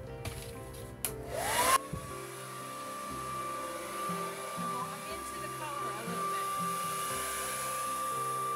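A hair dryer blows across an acrylic pour painting of metallic paints, giving a steady close whirring rush with a thin constant whine, after a brief louder burst near the start.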